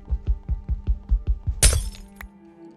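Glass block broken in Minecraft: a run of about seven rhythmic, thudding hits builds to a loud, bright shattering crash, then a short ringing tail fades out.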